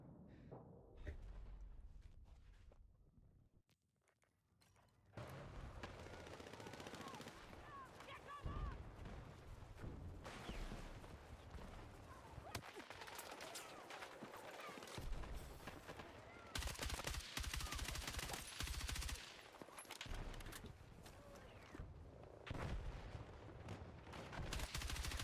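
Video game gunfire rattles through a dense, loud mix of rapid shots and bursts, nearly continuous after a brief quieter opening, with a voice talking over parts of it.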